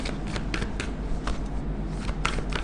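Tarot cards are shuffled close up in a rapid series of crisp riffling bursts, repeating every half second or so over a dense papery rustle.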